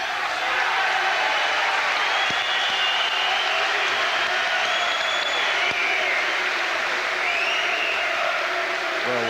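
Large crowd at a boxing match held in an ice rink, a sustained loud roar of cheering and applause filling the hall without letup, with occasional sharp knocks underneath.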